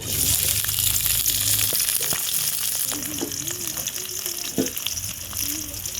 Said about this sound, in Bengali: পেঁয়াজ মরিচ কেটে রাখছি এখন দিয়ে দিলাম কড়াইয়ে